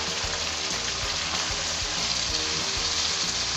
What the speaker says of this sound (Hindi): प्याज को भी हमने गोल्डन नहीं करना, बस हल्का सा सौते करना है इसको